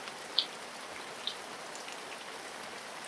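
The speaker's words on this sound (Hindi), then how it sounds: "अभी बारिश हो रही है" Steady rain hisses softly and evenly, with a couple of distinct drips tapping near the start.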